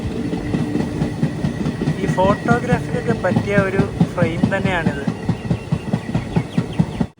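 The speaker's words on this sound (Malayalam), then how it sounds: "ട്രെയിനിപ്പോൾ അടുത്തൊരു റെയിൽവേ സ്റ്റേഷനിലേക്ക് എത്തുകയാണ്." A passenger train on the Tirunelveli–Kanniyakumari line pulling into a small station in Tamil Nadu, its steady rumble and clattering wheels close and continuous while someone talks over it.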